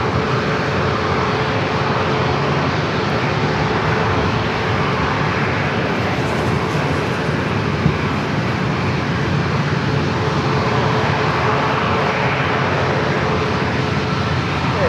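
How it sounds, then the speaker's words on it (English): A Southwest Boeing 737 MAX 8 jet at San Diego airport gives off a steady, loud broadband engine roar that holds evenly throughout, with no voices. "This next southwest flight heading to Sacramento. Flight 2534 is 737 and MAX 8."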